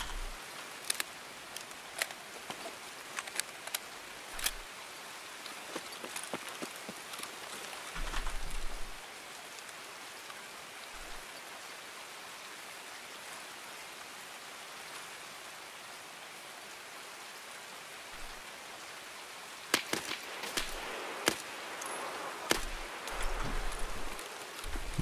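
Heavy rain in Escape from Tarkov, a constant loud hiss of downpour with scattered sharp drips and crackles, broken by a few louder thumps.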